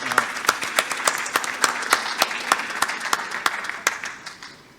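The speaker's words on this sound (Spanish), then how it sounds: "Lo despedimos al doctor con un fuerte aplauso." Audience applause for a doctor after a health talk on dengue, chikungunya and Zika: sustained, dense clapping with steady rhythmic claps, fairly close, fading toward the end.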